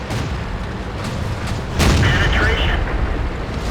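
A T29 heavy tank's cannon fires in a video game, a single sudden boom bursting out over steady engine rumble and battle noise, with a voice talking alongside.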